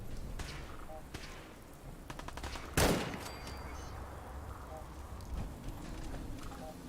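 Gunfire from enemies shooting at the player in a video game, a few sharp shots with one loud crack standing out midway, over a steady background with occasional speech.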